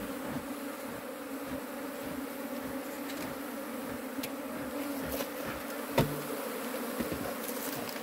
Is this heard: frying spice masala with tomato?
no